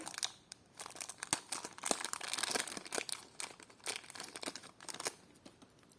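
Crinkling plastic packet holding vintage clip earrings being opened, a close run of sharp crackles and rustles with brief tearing bursts, steady and alone without talk.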